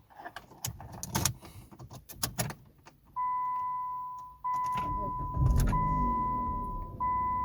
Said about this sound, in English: push the brake pedal and start your vehicle using your working key